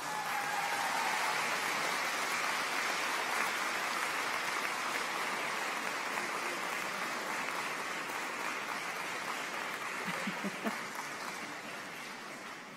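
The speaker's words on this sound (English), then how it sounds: "give a very warm round of applause to all those people that helped you get here" A graduation ceremony audience gives a sustained round of applause. The clapping is distant and washy, blurred into a continuous hiss, and tapers slightly toward the end.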